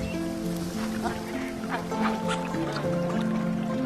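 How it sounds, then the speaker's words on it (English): Bar-headed geese on the Tibetan Plateau honk and call repeatedly, several overlapping nasal cries from a nearby flock forming a busy, continuous chorus. "Bar-headed geese are one of the specials of the Tibetan Plateau."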